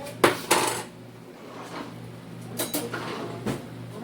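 Knife strokes on a plate while slicing beef for a beef-and-noodles dish: a few sharp scraping clicks and clinks, two near the start and a couple more later, over a steady low kitchen hum.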